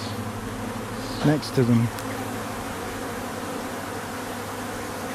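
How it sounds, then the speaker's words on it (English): Buckfast honey bees hum steadily at close range around their hive, a dense continuous buzz with a brief spoken phrase over it. "And these bees are quite tame actually."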